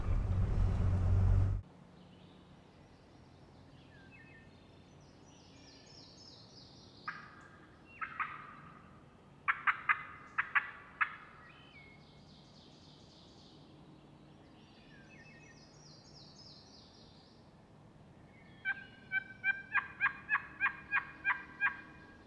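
Wild turkey gobbling far off on a ridge at 7:15 in the morning, faint and distant, in several separate calls spread across a quiet outdoor stretch, with a short loud noise at the start.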